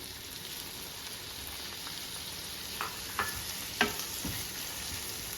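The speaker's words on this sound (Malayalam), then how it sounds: "ഈ സമയം നമുക്കിതിലേക്ക് ഒരു തക്കാളി ചെറുതായി അരിഞ്ഞത് ചേർത്ത് കൊടുക്കാം" Onion and chopped tomato fry in a pan for a Kerala-style cauliflower roast, making a soft, steady sizzle with a few light scraping taps from stirring near the end.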